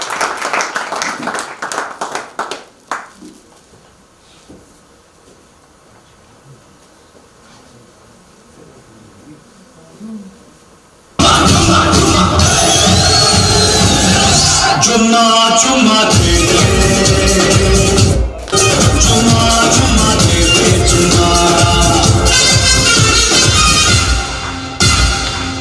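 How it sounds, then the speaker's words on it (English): Audience at a secondary school dinner show breaks into loud applause and cheering for a performer after a quieter stretch of murmur, the clapping dense and sustained to the end. "Give him a round of applause, ladies and gentlemen"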